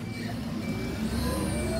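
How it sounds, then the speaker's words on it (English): A green waste bin lorry reverses on a Bournemouth street, its engine a steady close rumble with a thin tonal whine above it. The sound is continuous and fairly loud. "Oh, he's reversing it."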